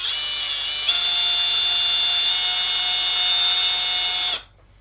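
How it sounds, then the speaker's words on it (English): A high-pitched power drill whines steadily for about four seconds, boring a hole in a Sesame Street Cookie Monster toy, close and loud, its pitch shifting slightly before it stops abruptly. "I'm going to use a drill bit that's the same diameter of my headphone jack wire"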